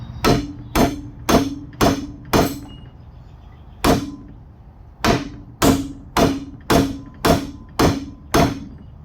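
Sharp metallic hammer strikes ring out in steady rhythm in a metal fabrication shop, a run of five, a pause, a single blow, then eight more evenly spaced, loud and close.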